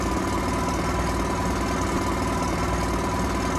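A Tohatsu 20hp outboard engine runs on a catamaran, a loud, close, continuous mechanical drone with a steady rapid chugging throb and no voices.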